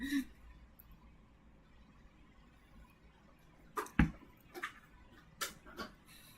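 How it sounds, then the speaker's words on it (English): Quiet room tone, then a handful of sharp scratchy scrapes and clicks from a cat clawing at things, irregular and close by. "That is the sound of a cat."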